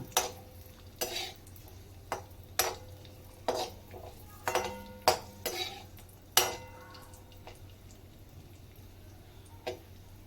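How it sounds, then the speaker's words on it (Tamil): Raisins and cashews fry in a pan for rava kesari, a sweet semolina dish, while a spoon scrapes and clinks against the metal in irregular sharp taps over a low steady sizzle, close and moderately loud, with no talk. "இப்போ திராட்சையும் பொரியுது இல்லையா?"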